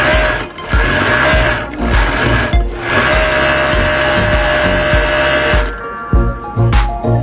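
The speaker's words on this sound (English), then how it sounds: "This process uses a specialized overlock machine that knits the thread into decorative lace patterns along the" An industrial overlock machine knits thread into a decorative lace border along a fabric edge, giving a loud, steady mechanical whir and rapid rhythmic clatter that runs continuously close up, without any talk.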